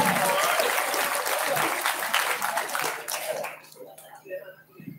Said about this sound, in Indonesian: Kita berikan tepuk tangan buat marching band Darul Quran.